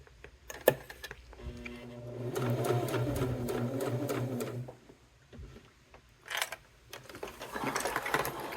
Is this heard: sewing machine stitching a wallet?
yes